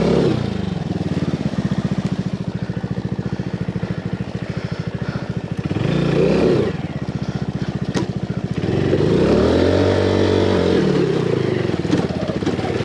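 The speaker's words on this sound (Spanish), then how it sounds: "A ver si consigo sacar la moto a una zona más plana." A 125cc scrambler motorcycle on an off-road enduro trail, its engine idling steadily with a loud, close putter that rises in a couple of revving surges, heard alone.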